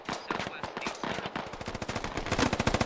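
Dense rapid bursts of automatic gunfire and scattered single shots from a military video game firefight, loud and continuous, building in pace toward the end with no talking over it.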